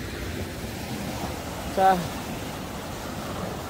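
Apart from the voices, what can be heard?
high ocean waves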